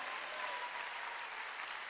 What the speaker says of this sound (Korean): 깨달은 사람만 박수 쳐야겠야.